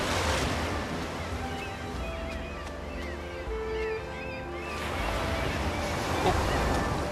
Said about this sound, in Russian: Ёлки-палки, опять волной сейчас смою.